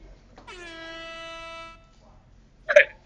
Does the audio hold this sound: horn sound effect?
yes